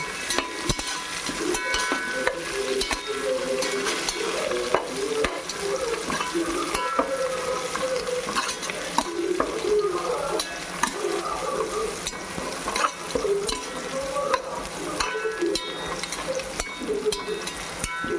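Coriander and mint leaves fry and get stirred in a hot pan for Hyderabadi chicken biryani, a steady close sizzle with scraping spoon strokes running throughout, no voices.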